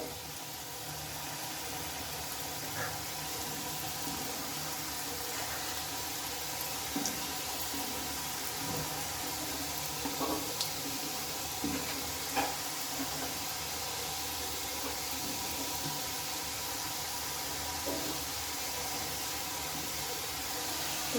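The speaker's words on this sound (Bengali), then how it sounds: "আমি এগুলোকে এবার তেলের মধ্যে দিয়ে দিচ্ছি" Small flour-dough snacks frying together in a shallow layer of hot oil on a gas stove, a steady soft broadband hiss with faint crackles and occasional small pops, fairly quiet and even throughout, no talking.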